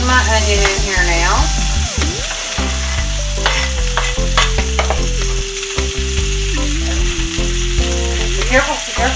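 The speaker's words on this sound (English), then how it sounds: "I'm going to go ahead and slide my onion in here now" Chopped onion hitting melted butter in a hot pan on high heat, bursting into a loud, steady sizzle that runs unbroken throughout, with someone talking over the frying.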